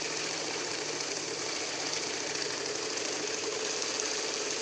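Heavy-duty cash counting machine riffling through rupee notes: a continuous rapid whirring flutter at a steady, moderate level, heard alone without voices.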